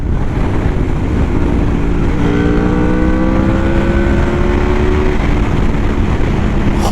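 A loud Honda VFR 800 VTEC motorcycle engine idles roughly, then revs up in rising, sustained pulls before easing back, with constant engine rumble throughout.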